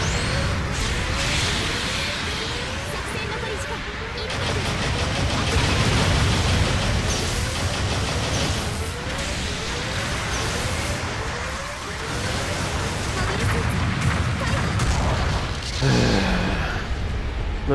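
Repeated booming explosions from a Gundam Battle Operation 2 mech battle, dense and loud throughout amid continuous game noise, rising into heavier bursts around the middle and again near the end.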